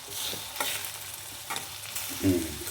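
Brinjal curry with chopped bajji chilli being stirred in a pan, a close spoon scraping and clinking in uneven strokes over a low steady sizzle, with a louder scrape near the end.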